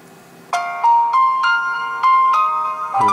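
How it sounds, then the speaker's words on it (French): A phone plays a melodic notification chime, a series of bright tonal notes rising and falling in a steady rhythm for about three seconds. It is loud and close, with no talking. "Donc ça c'est une notification"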